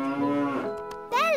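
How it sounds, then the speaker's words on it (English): A cow in a cartoon farm scene moos loudly and close with a long, drawn-out tonal low, followed by a brief rising-and-falling call at the end. "Bella's a cow."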